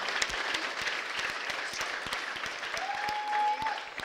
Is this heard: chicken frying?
no